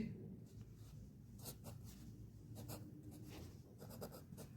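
A pen scratching out math formulas on paper, soft intermittent strokes heard close but faint over a steady low background hum.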